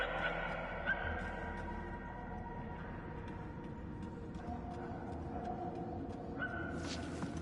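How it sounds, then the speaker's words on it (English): Barking dog in the PS5 game Guardians of the Galaxy, heard as faint, distant yips under a steady game ambience and music hum, with a voice briefly talking over it. "Whoever's barking must be close."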